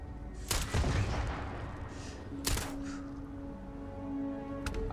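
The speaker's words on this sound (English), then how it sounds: "Why is something shooting at me already?" Gunfire in the sci-fi video game Starfield: three sharp, loud shots spaced over a few seconds, each leaving a ringing tail over a low humming background.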